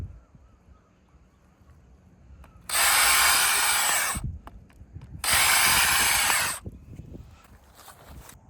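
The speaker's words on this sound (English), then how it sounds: "Pilot holes are drilled, put 3-inch screws in there" A power drill boring pilot holes into wood lumber for an outdoor aquarium rack, two loud sustained bursts of about a second and a half each, separated by a short pause, over quiet room background.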